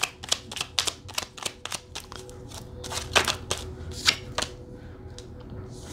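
Tarot cards riffled and shuffled by hand at close range, a quick run of crisp flicking snaps with short pauses, no voices.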